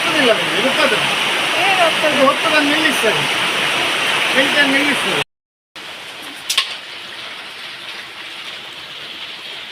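Water pours onto a floor being swept: a loud, rushing splash runs for about five seconds with a muffled voice faintly beneath it, then cuts off to quieter background and a brief knock.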